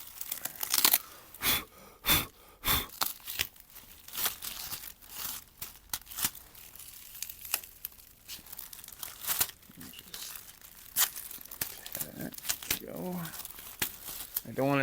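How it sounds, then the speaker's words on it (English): Plastic masking being peeled and torn off freshly spray-painted car paint, with repeated crinkling, crackling rips in uneven bursts close to the microphone and occasional talk in between. "Don't tear the plastic, which you just tore the plastic."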